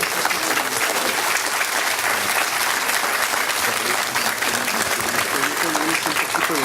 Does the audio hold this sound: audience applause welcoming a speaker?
yes